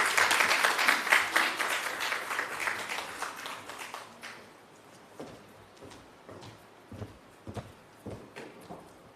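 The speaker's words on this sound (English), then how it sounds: "Can we give them another round of applause, please?" At a health research conference, the audience applauds the presenters: a dense, warm round of clapping that fades after a few seconds into sparse scattered claps and room noise.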